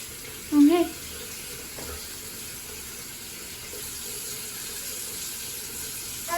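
A tap runs steadily while a child washes hands at a sink, a soft continuous flow with a brief louder sound near the start.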